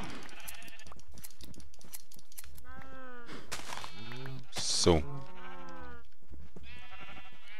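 Several Minecraft sheep bleat in short wavering cries, one after another, close by, while players talk over the game sounds.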